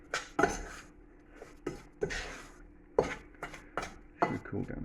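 A spoon stirs a cornflake biscuit mixture in a pan, giving a series of close, uneven scraping and clinking bursts against the metal, each separated by brief pauses.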